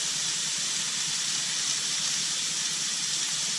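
Bacon end pieces cooking in a pot give off a steady, loud sizzling hiss that holds unbroken throughout, with no voices over it.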